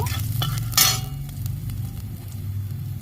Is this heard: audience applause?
no